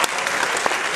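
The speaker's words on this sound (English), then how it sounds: "Yeah, round of applause for that" Audience applause at a Disney's Hollywood Studios stage event, loud and dense clapping filling the whole moment with no talk over it.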